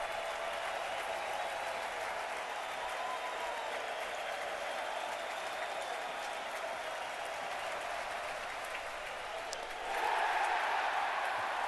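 A standing-room-only crowd at the 2013 NL Wild Card baseball game between the Pirates and Reds roars in a sustained, dense wash of cheering and applause that swells louder near the end.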